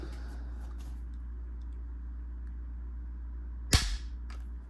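The trigger of a left-handed Winchester XPR 6.8 Western rifle is dry-fired, giving one sharp, crisp click close up over a steady low hum.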